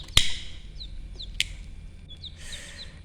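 A few faint, high chirps from one-day-old newly hatched chicks, scattered between sharp clicks and knocks nearby.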